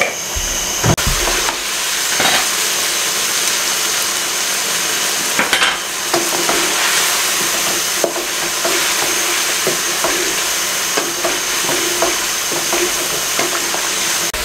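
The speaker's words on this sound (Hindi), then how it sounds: "इसकी अच्छी तरीके से 3 से 4 मिनट भुनाई कर लें" Chicken for makhni karahi fries hard in hot ghee, a loud steady sizzle with scraping stir strokes and occasional clinks running the whole way through, no voices.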